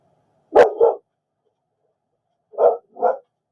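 A dog indoors barks twice in quick pairs, a loud double bark followed by a pause and then another double bark, close by against near silence.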